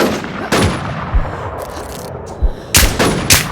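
Video game gunfire: several loud, sharp shots spaced irregularly across a few seconds, with bursts near the start and a rapid cluster toward the end, alone without talk.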